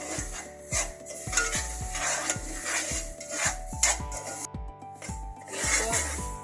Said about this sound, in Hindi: इसको आप अच्छे से हल्की आंच पे भून लेंगे ऑयल में